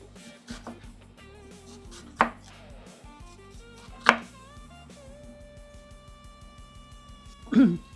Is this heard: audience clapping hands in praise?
no